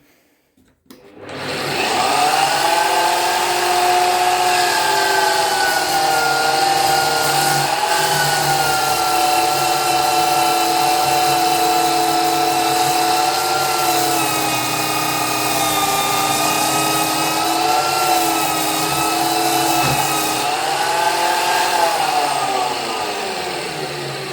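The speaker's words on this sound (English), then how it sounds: "It is very helpful if you want to sand something, and it's getting very smooth." Parkside PDM 600 B2 lathe spinning a workpiece while it is sanded, a loud, steady motor whine with a strong tonal hum that starts up quickly, holds evenly for over twenty seconds and dips slightly near the end.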